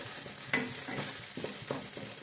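Kolhapuri-style masala fries in a pan with a low sizzle, broken by several distinct stirring scrapes at an uneven rhythm, close up with no talking.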